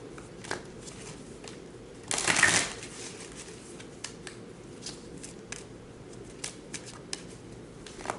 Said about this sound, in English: it just feels more comfortable when I shuffle right here